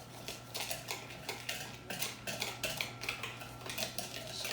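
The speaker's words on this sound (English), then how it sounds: "Stir that real good." A spoon scrapes and clinks steadily through cobbler batter with sugar in a bowl, a quiet, repetitive stirring rhythm over a low background hum, with no voices.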